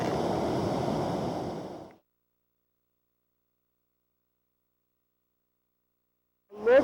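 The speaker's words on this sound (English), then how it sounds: "Look at big, powerful Houston Falls." Whitewater at Houston Falls, a roughly ten-foot Class 5 vertical drop on the White Salmon River, roars as a loud, broad rush for about two seconds, then cuts to silence before a brief sound returns at the end.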